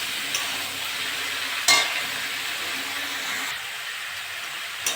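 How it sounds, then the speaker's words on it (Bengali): Pumpkin stems and eggplant stir-frying in a hot pan, with a steady broadband sizzle, a sharp clatter of spatula against the pan near the middle, and a few lighter scrapes, close and alone without talk. "এবার ডাঁটাগুলো দিয়ে দেবো। ডাঁটাগুলো দিয়ে একটু নেড়ে চেড়ে নেবো।"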